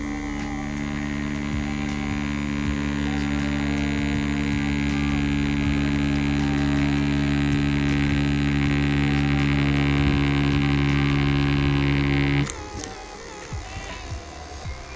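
A tattoo machine running with a 4.2 mm stroke drones as a loud, steady buzzing hum for about twelve seconds, then cuts out abruptly, leaving quieter background noise.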